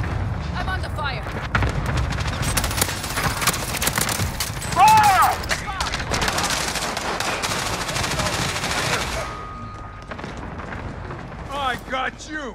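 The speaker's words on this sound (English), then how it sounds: "Enemy cluster strike incoming. Take cover." Rapid bursts of explosions and gunfire from a cluster strike in Call of Duty Warzone on Rebirth Island, dense and sustained for about nine seconds, with a voice talking over parts of it before the barrage thins out.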